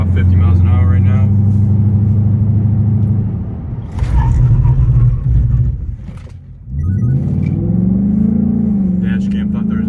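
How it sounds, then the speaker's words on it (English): A new Ford Mustang with warped brake rotors braking hard from about 50 mph to near walking pace, loud engine and road rumble dipping as it slows, then building again, with a voice talking over much of it. "you're gonna be slamming on your brakes"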